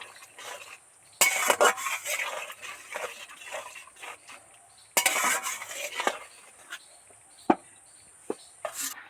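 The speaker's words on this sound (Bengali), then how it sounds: "এবার এই করার মধ্যে সর্ষে বাটাটা দিয়ে দিচ্ছি এবার নেড়ে চেড়ে দু মিনিটের মতো একদম টকবক করে ফুটিয়ে নেব" Mustard paste being stirred into a small-fish curry with egg in a pan: a spoon scrapes and clatters against the metal in two bursts of busy stirring, separated by quieter stretches and a few sharp knocks, close up with no talking.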